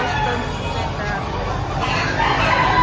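A rooster crows at a busy gamefowl market, the call half-buried under the nearby chatter and bargaining of a crowd.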